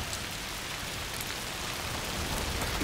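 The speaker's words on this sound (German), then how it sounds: "Mieser Regen." Steady rain from the video game A Plague Tale: Requiem, a dense, even hiss of falling drops that stays constant throughout with no voices.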